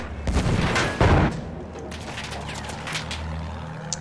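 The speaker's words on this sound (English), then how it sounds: "See how they are shooting me already with the infantry weapons?" Infantry small-arms fire aimed at a tank in the video game Battlefield 1, a few sharp booming shots early on, then scattered fainter cracks and rumble over a steady low engine drone.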